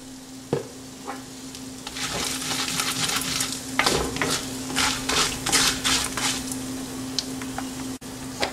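Dry chilies fry in oil in a pan for bisibelabath, a close, steady sizzle with bursts of crackling and spatter that build and continue without talk.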